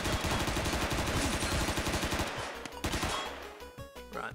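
A light machine gun fires a long, rapid, steady burst in a video game, loud and close, then breaks into a few shorter shots before fading into game sounds.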